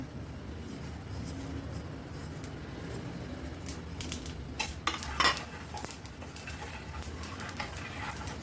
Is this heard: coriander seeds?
yes